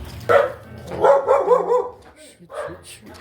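Dogs bark in several sharp bursts, loud and close, with a short pause before a final round of barks.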